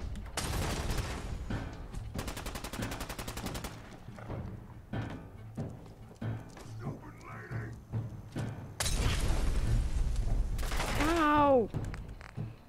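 Shotgun blasts and impacts in the video game Fallout 4, several loud booming shots with crashing and shattering sounds, spaced irregularly among quieter game noise, with a sweeping tonal effect near the end.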